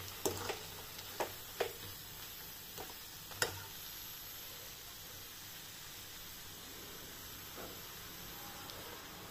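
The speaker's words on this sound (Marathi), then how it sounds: "दोन ते 3 मिनिटांसाठी आपण परतून घेऊ" Kaju paneer masala sautéing in a pan, a quiet continuous sizzle broken by several light spatula taps and scrapes early on, then settling into an even hiss.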